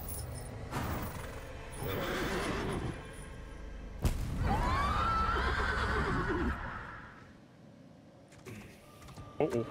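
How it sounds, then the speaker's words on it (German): A horse neighs loudly in the video game Lords of the Fallen, a long rising and falling whinny with hoof and gear clatter around it, followed by quieter game sounds. "Der hat sogar ein Pferd."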